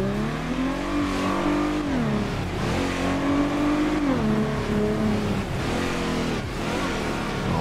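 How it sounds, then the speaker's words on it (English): A 2024 Ford Mustang engine revs in the video game GTA V, its loud droning note repeatedly rising and falling through gear shifts, steady and close throughout with no voices. "Hopefully you can hear me over the car"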